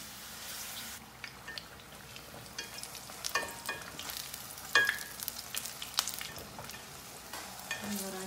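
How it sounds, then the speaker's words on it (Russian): Corn flatbreads frying in hot oil give a soft, steady sizzle with scattered crackles and a few clinks of a utensil, all moderately quiet and close. "В разогретое масло выкладываем лепешки"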